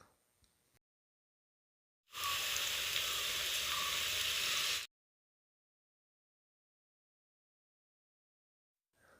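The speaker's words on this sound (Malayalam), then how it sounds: "ഇനി ചൂടായ എണ്ണയിലോട്ട് ഇട്ടിട്ട് ഇതിനെല്ലാവരെയും ഫ്രൈ ചെയ്തെടുക്കുക." Breadcrumb-coated egg lollipops fry in hot oil, a loud, steady, close sizzle lasting a few seconds between stretches of silence.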